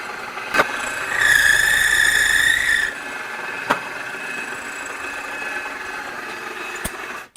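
A lathe takes a very light cut on a brass drum hoop, giving a steady high-pitched ringing squeal for about two seconds over a low motor hum, followed by a few sharp clicks.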